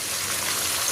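Liquid poured over leftover lechon pieces in a pan for adobo, a short dense rushing splash that stays steady and fairly loud for under a second, with no talk.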